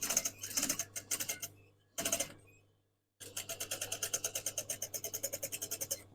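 Sewing machine stitching close to the top edge of boomerang-shaped fabric tie backs, with D-rings attached, running in short bursts and then a long, steady rhythmic run of rapid needle strokes, close and clear.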